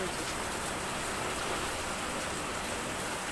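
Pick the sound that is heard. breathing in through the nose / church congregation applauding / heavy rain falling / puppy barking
heavy rain falling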